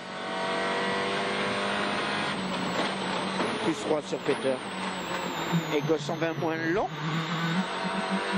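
A Citroën rally car runs a tarmac stage across a dam, its engine note rising and shifting through gears and passing by at moderate distance while a commentator talks over it throughout.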